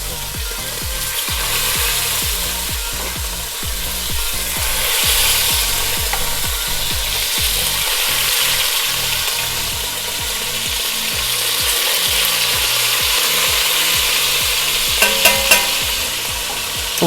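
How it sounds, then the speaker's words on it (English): Beef chuck browns on a Blackstone griddle with a steady, loud sizzle, repeated scraping strokes of a spatula in an uneven rhythm and a few sharp clacks near the end, with no talking. "start browning my meat"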